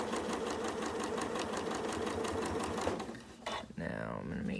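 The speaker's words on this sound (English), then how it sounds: "I sew from pin to pin, and if I have to do any easing, then I do it in between" A sewing machine stitches quilt pieces over thin pins, running in a fast, steady mechanical rhythm close by, then slowing and stopping near the end as a voice begins talking.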